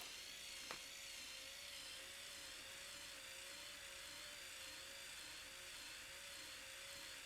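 Small motor inside the Bussard nacelles of a TOS Enterprise model whirs with a steady, thin high-pitched whine and a faint tonal hum, running continuously and quietly with a brief click near the start and no talking.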